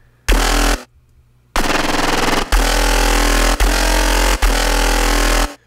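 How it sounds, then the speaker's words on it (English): Dry synth bass from a Serum synthesizer with no effects, loud buzzy stabs in a choppy rhythm: a short burst, a brief gap, then several sustained hits broken by quick cuts, with no voices. "this is what the bass sounds like."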